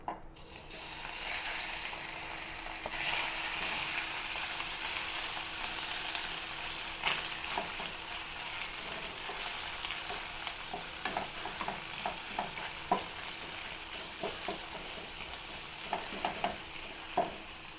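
Spice-marinated sardines fry steadily in a pan, a continuous close sizzle with scattered crackles and pops running throughout, no talking.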